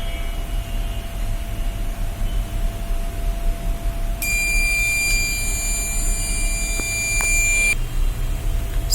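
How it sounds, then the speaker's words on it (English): A Raspberry Pi electronic voting machine's buzzer sounds a single sustained, shrill alert tone for about three and a half seconds over a constant electrical hum, then cuts off abruptly, with no talking. "this buzzer will use that alert, and it will display like fraud voting or already voted."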